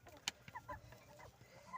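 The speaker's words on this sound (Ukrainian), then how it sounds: "Ой, кури їдять." Soft, scattered clucks from chickens eating close by, with light pecking and rustling sounds, quiet and brief.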